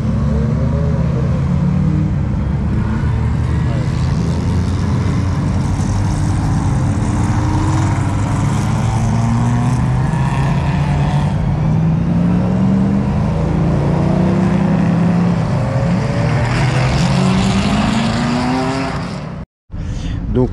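Porsches and other classic sports cars, many of them berlinettes, run laps at the Montlhéry circuit. Engines roar loudly and continuously with rising and falling revs as cars pass close by, and voices talk over the noise.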